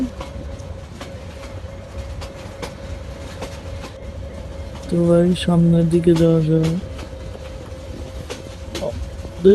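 A train in the game Train Sim Bangladesh rumbles steadily along the track, and a loud two-second horn blast sounds partway through as someone talks over it.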